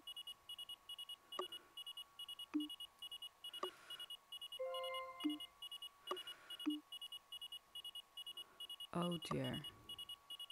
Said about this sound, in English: Everything's beeping in there.